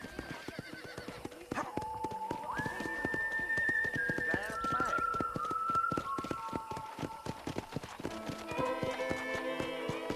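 Horse hooves clip-clop steadily in the Red Dead Redemption video game, a quick rhythmic clatter of fairly close footfalls running throughout, with sustained tonal voice or music sounds layered over them.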